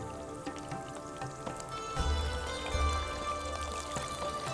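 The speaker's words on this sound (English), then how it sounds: "we are shallow frying it." Masala eggplant pieces shallow fry in oil in a pan, a steady close sizzle with crackling pops and a few low thumps as pieces are set down.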